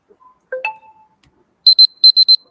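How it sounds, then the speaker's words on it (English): Presentation timer at a student final presentation event giving a run of short, bright electronic beeps in quick succession, preceded by a couple of softer tones, clear and alone. "you will get a beep like this"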